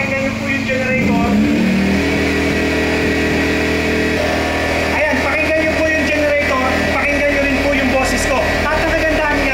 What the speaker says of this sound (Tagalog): pakinggan niyo po yung generator